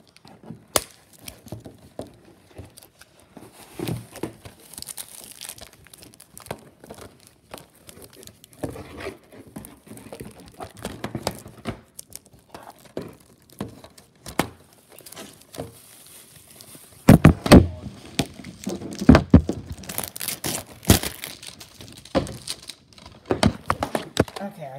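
DVD packaging being unwrapped and torn open, heard as scattered crinkling, snapping plastic and paper rips, growing louder and more frantic near the end, with talking mixed in.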